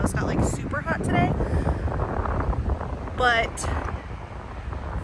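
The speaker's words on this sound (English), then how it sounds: "But also to note, it's super windy out here, which is nice." Strong wind buffets the microphone outdoors at a garden plot, a continuous rough rumble throughout, with a person talking briefly over it.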